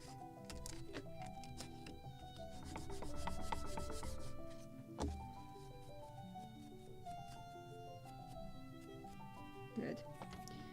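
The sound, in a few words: sanding wooden model ship part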